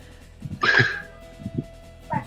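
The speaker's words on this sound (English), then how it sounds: "This wolf over here is just continually barking." Several short yelping barks from a chained wolf in a Western-trail tabletop adventure come in separated bursts, one louder and sharper near the start, over a low steady hum and a faint sustained tone.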